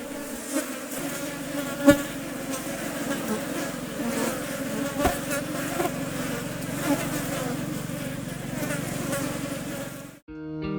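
Flies buzzing in a forest, a dense steady insect drone with a couple of sharper passes close by, continuing without pause before cutting off near the end.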